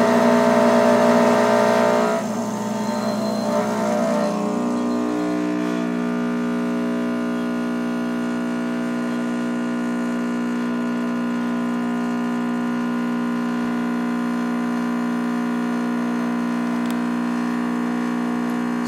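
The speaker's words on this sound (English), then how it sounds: "I'll turn the pump on, and I'll begin extracting my coffee." A Rancilio Silvia V3 espresso machine's pump runs steadily while pulling a shot of espresso, giving a sustained, even mechanical hum with a louder start before settling into a constant tone, no voices heard.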